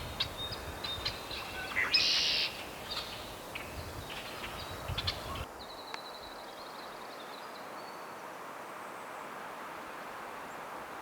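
A golden-crowned kinglet calls from a forest, giving thin, very high scolding notes in a short burst, then fainter, softer repeats against steady outdoor background hiss.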